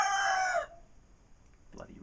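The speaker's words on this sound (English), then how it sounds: "Bloody roosters." Rooster crowing loudly and close for about half a second, a bright harmonic call that cuts off abruptly, followed by quiet background and a brief faint sound near the end.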